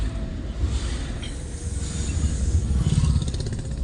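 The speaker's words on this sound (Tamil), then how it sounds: "செகண்ட் கீழே வண்டி நல்லா இழுத்துட்டு போகுது" Vehicle engine pulling downhill in second gear on the Kallatty road: a steady, moderately loud engine drone with wind and road rumble, continuous and without speech.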